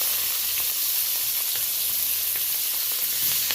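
Slit green chillies and grated onion dropped into hot oil tempered with cumin, a dense hissing sizzle with faint scattered pops, close and steady throughout.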